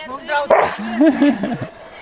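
Friendly dogs bark, yip and whine at close range in short, excited bursts, mixed with a person speaking over them.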